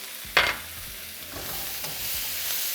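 Minced garlic and chile japonés stirred in hot oil, a sharp scrape of the spoon followed by steady frying sizzle with soft stirring clicks, close and alone.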